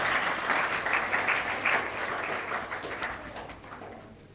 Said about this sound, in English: So clap for all the girls the way they are coming